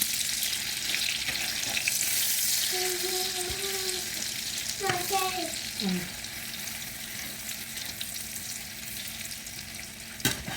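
An egg frying in hot oil for a home-cooked breakfast, giving a steady broadband sizzle throughout, with a few brief tonal squeaks from utensils or movement partway through and no talk.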